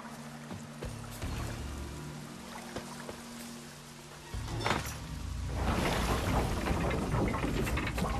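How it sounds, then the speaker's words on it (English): Rain in The Witcher 3 video game: a steady hiss of falling rain that grows heavier and louder partway through, with soft low rumbles and splashing texture underneath and no talking. "Looks like rain."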